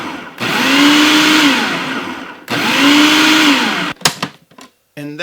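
A blender or food processor chops sliced cremini mushrooms in two loud, steady pulses of about two seconds each, followed by short rattling clicks and a quick final burst.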